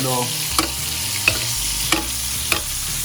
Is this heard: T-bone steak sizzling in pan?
yes